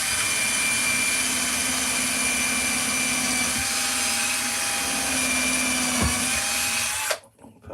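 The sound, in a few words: drill boring holes in wet wood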